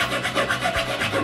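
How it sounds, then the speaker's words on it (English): Metal file rasping screw points flush against a wooden jig base, a quick series of rhythmic back-and-forth scraping strokes, close and fairly quiet. "the points of the screws are sticking out the back of the jig. So I file them flush to the base."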